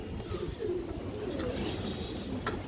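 Pigeons cooing at a breeding farm selling colored, racer and high-flyer birds, a steady low murmuring coo that continues throughout, close and fairly loud with some background chatter.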